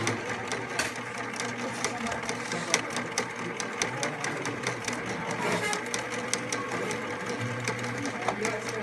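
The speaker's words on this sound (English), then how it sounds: "I'm going to sew all the way down." Sewing machine stitching a straight seam down the side of a drawstring bag, a steady close mechanical whirr of rapid needle strokes running continuously with slight speed changes.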